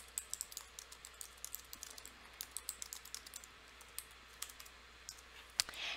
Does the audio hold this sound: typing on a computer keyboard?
yes